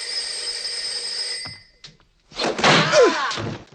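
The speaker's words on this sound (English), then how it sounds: "The phone is ringing." A telephone rings with a steady electronic tone for about a second and a half, then stops, followed by a thud and a burst of handling noise.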